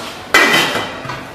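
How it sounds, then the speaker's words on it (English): A lid set down onto a pot of rice on a stove gives one sharp metallic clank with a ringing tail, then a fainter second tap about a second later. "you can put the lid on the pot."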